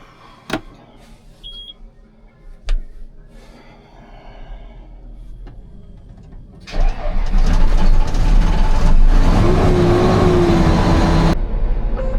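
A car's engine cranks and catches at about seven seconds after a quiet stretch with a few faint clicks, then runs loud and steady as a rough idle until near the end.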